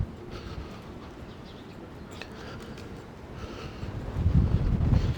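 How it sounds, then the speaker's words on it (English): Wind on a cold day outdoors on a New York City street, a steady low rumbling buffet across the microphone that swells louder toward the end, with faint background noise and no voices. "It is a windy day and very cold."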